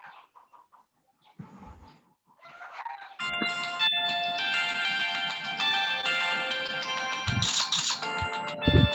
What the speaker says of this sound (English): Please mute your phone.